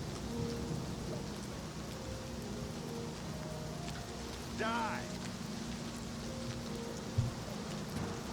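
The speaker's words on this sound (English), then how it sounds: "just within moments, the rain started falling" In the game Oblivion Remastered, rain falls as a steady, soft hiss throughout, with a low background hum and a brief chirping sound midway; a voice speaks once briefly.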